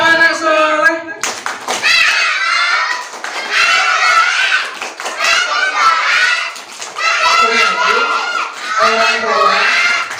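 Children at a Maulid Nabi gathering clap out a rhythmic chant together, bursts of patterned hand claps mixed with shouted young voices, loud and lively throughout, a voice singing alone at the start.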